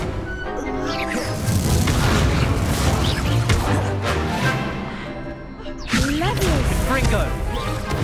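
Incendio fire spell cast in the video game Hogwarts Legacy on PS5, loud fiery whooshes and crashing booms amid busy combat effects, with a voice calling out spell names.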